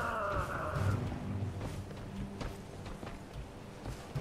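Horse hooves clopping in Elden Ring, a steady rhythmic beat running under game music and effects, moderately loud throughout.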